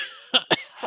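A woman's two short, quick coughs close up, followed by the start of a third sound, as if a voice is imitating a small polite cough.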